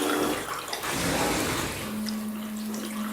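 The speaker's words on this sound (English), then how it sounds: "Run a bit of water off." A new float valve lets water run into a toilet cistern, producing a steady close hiss and splashing flow with a faint tonal whine rising near the end, no speech.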